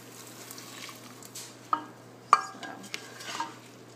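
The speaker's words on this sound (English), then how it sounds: "Just keep adding the hot stock in and stirring, and that's going to give the risotto its classic creamy texture." Risotto stirred in a pan as hot stock is added, soft scraping swishes with a few sharp spoon clinks against the pan over a faint background hiss, no talk.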